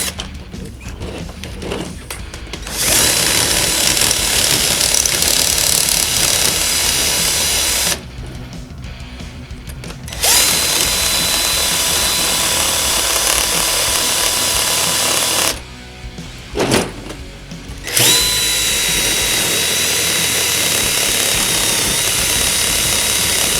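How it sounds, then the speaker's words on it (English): A power drill with a bit drills into a Snap-On light fitting, whining loudly and continuously in three long bursts separated by brief pauses, with a stutter of short revs near the end. "Try to do it with this drill bit."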